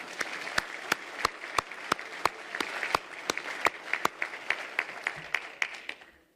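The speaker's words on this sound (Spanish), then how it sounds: "Pido un fuerte aplauso para ellos." Steady audience applause, a dense wash of many hands with a few sharp, close individual claps standing out in a regular rhythm, fading out at the end.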